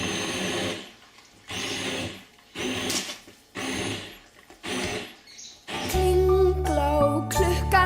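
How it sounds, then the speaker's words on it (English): A stick blender purees leek and potato soup in five even pulses of whirring and churning, then gives way to music playing. "stick blender."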